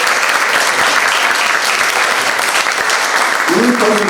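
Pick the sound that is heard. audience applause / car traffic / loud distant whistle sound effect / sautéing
audience applause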